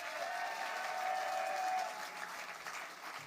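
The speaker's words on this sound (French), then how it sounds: "je vous invite à les applaudir" Audience at a political meeting in a Paris venue gives steady, continuous applause, fairly distant and even throughout, with no voices standing out.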